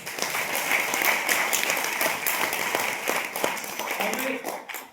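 Audience applause at a motivational seminar: dense, steady clapping from a crowd fills the full five seconds, with a voice talking over it and the sound thinning out at the very end.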